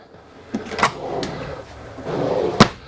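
A cherry-wood full-extension cabinet drawer in a 2019 Newmar Dutch Star motorhome slides out and back in with soft rolling rumbles and a sharp knock as it shuts, close by with no talking.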